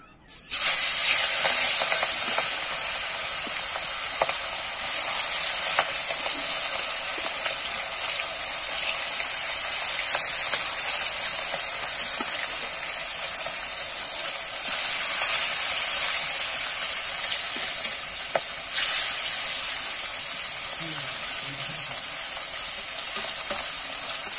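Silver carp pieces rubbed with salt and turmeric drop into well-heated oil and fry with a steady, bright, hissing sizzle that holds evenly throughout, close and with no talking.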